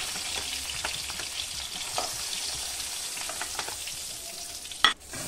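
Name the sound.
prawns frying in oil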